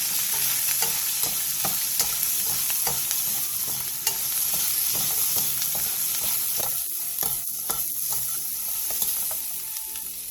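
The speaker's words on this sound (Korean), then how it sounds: "팬에 기름을 두른 뒤 꽈리고추와 소금 1티스푼을 넣고 센 불에서 1분 정도 가볍게 볶아주세요." Shishito peppers stir-frying in an oiled pan with salt over high heat, a close, continuous sizzle with frequent scraping and tossing clicks of the utensil against the pan, no voices.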